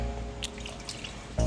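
Water trickling and dripping into an emptied tomato sauce can as it is rinsed, a few close, light splashes and drips, ending in a louder pouring gush.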